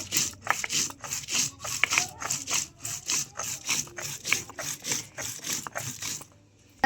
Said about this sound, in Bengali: আর দিয়ে দিচ্ছি অল্প গোটা জিরে এটাকে এটাকেও খুব ভালো করে বেটে নেব